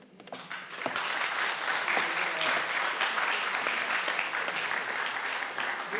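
Audience at a Founders' Day convocation breaks into applause that swells quickly and holds steady as a dense, even clatter of many hands.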